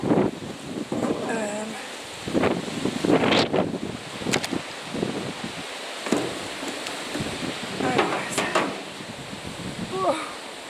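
Blustery wind gusts outdoors in a kitchen garden, rushing and buffeting the microphone in uneven bursts, while someone talks intermittently over it.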